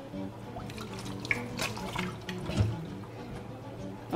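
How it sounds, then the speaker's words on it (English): Tap water runs steadily into a kitchen sink during hand washing while cooking creamy chicken mushroom and spinach pasta, close by with light splashes and clinks, no talk. "Just going to wash my hands."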